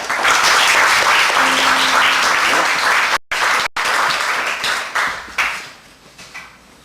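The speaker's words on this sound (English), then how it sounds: "let's give them a round of applause." Audience at a live performance gives a loud, sustained round of applause for the musicians, dense clapping that holds steady for a few seconds before thinning and fading out.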